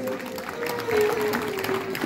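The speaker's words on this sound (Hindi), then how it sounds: "बहुत बहुत धन्यवाद तालियों के लिए" An audience applauds at a cultural program in Rajnandgaon, Chhattisgarh, a steady, moderately loud patter of clapping under a sustained held tone, with some voices in the mix.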